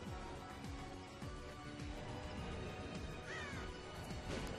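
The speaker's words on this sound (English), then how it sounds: "I like that he just makes generic crow sounds." Crow caws from Castlevania: Curse of Darkness, a few repeated harsh calls over a busy game soundscape with music and effects, moderately loud and without talk.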